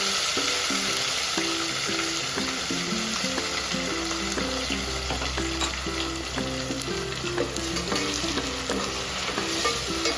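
Onion-tomato paste and green masala fry in a pan for a prawn biryani, a steady loud sizzle with rhythmic stirring scrapes throughout, close and uninterrupted, with no talking.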